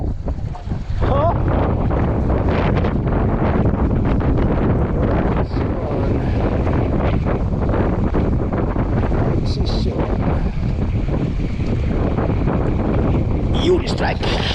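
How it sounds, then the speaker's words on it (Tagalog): Strong wind roars across a fishing boat out at sea during king mackerel fishing, a steady loud buffeting rush with water and hull noise underneath, continuous for the whole stretch, and someone speaks briefly. "Mas lakas ang hangin."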